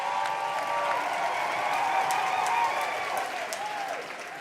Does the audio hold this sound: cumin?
no